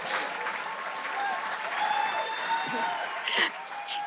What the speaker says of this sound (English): I don't know if we have our little applause here for Michaela